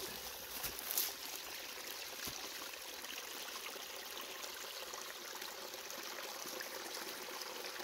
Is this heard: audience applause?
no